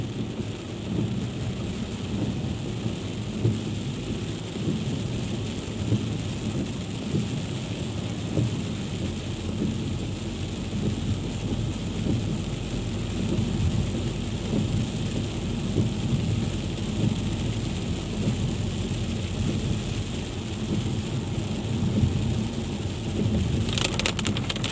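A thunderstorm pours heavy rain in a continuous loud wash, with deep thunder rumbling underneath throughout and a few crisp drips standing out near the end.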